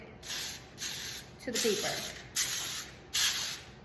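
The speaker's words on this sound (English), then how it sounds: "I'm also gonna spray it a little with cooking spray just so the muffin doesn't stick" Cooking spray hisses in five short bursts at a steady pace into a muffin pan, close by, while a voice speaks briefly partway through.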